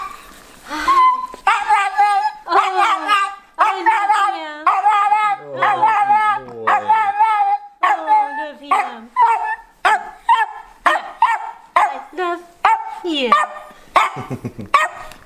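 An excited dog whimpers, yips and barks in a rapid, uneven string of high whines and short barks, close and loud, with a person greeting it warmly in between.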